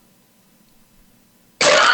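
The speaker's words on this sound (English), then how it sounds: "excuse me one moment, I had to cough." A single sharp cough bursts out near the end after near silence, close and loud, during a recorded interview.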